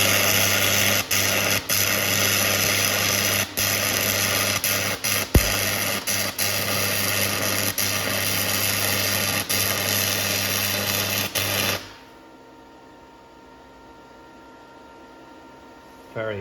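Small cheap welder running on metal in a shed, a steady loud buzzing hum with brief crackling breaks for about twelve seconds before cutting off into quiet.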